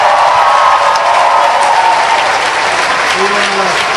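Loud crowd applause fills a large outdoor gathering at the Brandenburg Gate, a dense, steady wash of clapping with faint cheers running throughout.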